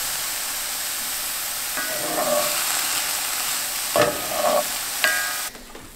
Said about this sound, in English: just let these sweat down a little bit until they start to get just a little bit golden brown